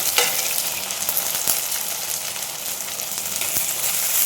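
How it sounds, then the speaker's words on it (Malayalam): Chopped tomato and curry leaves fry with shallots in a pan for a fish curry, giving a loud, even sizzle throughout with a couple of sharp stirring knocks. "ഈ സമയം നമുക്ക് ഒരു തക്കാളി ചെറുതായിട്ട് തന്നെ ഇട്ട് കൊടുക്കാം. കുറച്ച് കറിവേപ്പില ഇട്ട് കൊടുക്കാം."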